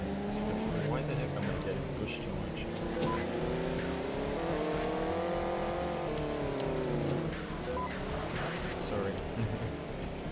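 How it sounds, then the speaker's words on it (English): Race cars in the Roadclub League Racing video game drone continuously with engine pitch rising and falling as they accelerate and shift, a steady loud mechanical whine under a player talking throughout. "I can hear the cars behind me."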